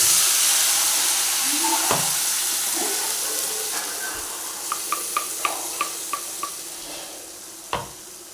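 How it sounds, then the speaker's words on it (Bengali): Nigella seeds tempering in hot oil, a continuous hissing sizzle with a run of small sharp pops and crackles in quick succession, plus a couple of louder clicks, close by and without talk. "এই যে তেলের মধ্যে একটু কালো জিরে ফোড়ন দিয়ে দিলাম।"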